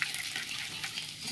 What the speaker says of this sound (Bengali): সামান্য রসুন কুচি প্রথম তেলে দিলাম।